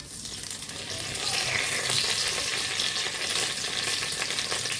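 A bay leaf drops into a small amount of hot oil, about one to one and a half spoons, for a rohu fish kofta curry. It gives a steady, close sizzle and crackle that swells after the first second and holds with no talk.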